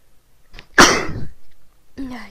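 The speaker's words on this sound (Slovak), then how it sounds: "Dá sa mi kýchnuť?" A single loud, breathy sneeze bursts out close by, with a faint intake of breath just before it and a short voiced sound after it, in a quiet room.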